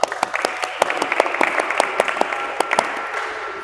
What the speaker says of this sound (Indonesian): Kita kasih aplaus untuk mereka berdua.